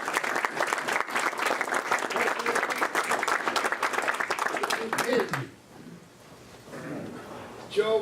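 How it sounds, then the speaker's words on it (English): Members at a Rotary club meeting clap loudly and steadily for about five seconds, then the applause stops abruptly and a quieter room with a voice and a few sounds follows. "join me in applauding Joe's efforts to help our Rotary International Foundation"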